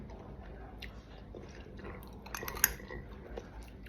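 Soft, close chewing and biting of apple dipped in chili salt, with moist, squishy crunches and a sharper bite partway through.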